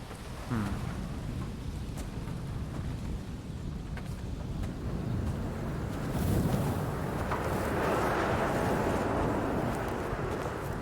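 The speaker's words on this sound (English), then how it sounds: "It is very windy on this island" Wind gusting across a remote island in the video game Dear Esther, a steady low rumble with rising gusts that swell louder toward the end, with no voices.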